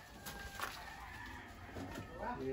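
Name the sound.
chickens clucking on a farm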